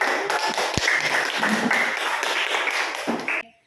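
Students in a classroom audience clap after a group presentation: a dense patter of hands lasting about three seconds, then stopping abruptly.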